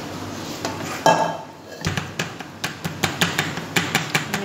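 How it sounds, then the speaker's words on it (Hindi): Rice katli mixture scraped and poured into a ghee-greased pan, with a run of sharp metallic clinks and taps from a spoon against the pan, growing into a steady rhythmic knocking toward the end. "कतली का मिक्सचर तैयार हो चुका है, चलें इसे हम पैन में डाल लेते हैं।"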